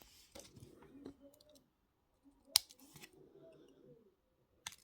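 Wire cutters snip both ends of thin jewellery wire while making wire-wrapped earrings, giving a few sharp, isolated clicks amid quiet handling noise and faint low murmuring.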